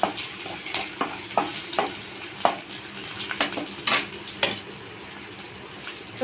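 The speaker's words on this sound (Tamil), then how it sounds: "இப்போ கொஞ்சம் நம்ம கருவேப்பிலை சேர்த்துருக்கோம் இது எல்லாத்தையும் ஒன்றா கலந்து விடுறோம்" Onions and curry leaves sauté in a pan for a beans poriyal, giving a steady close sizzle broken by repeated clinks and scrapes of a stirring spoon, with no talk.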